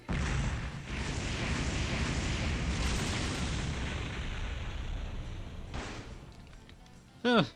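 A Rocket Punch attack in the game Disgaea: Hour of Darkness, a loud rumbling explosive blast that roars on for several seconds and fades, then a short bright burst at the end.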